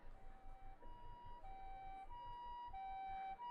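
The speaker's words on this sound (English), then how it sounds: "Another ambulance arrived on the scene, blaring its shrill siren." An ambulance siren in the Chaos;Head game wails in a steady alternating two-tone pattern, loud and continuous over a low rumbling background.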